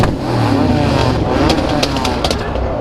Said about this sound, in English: we all just kind of did a big rev battle, all of us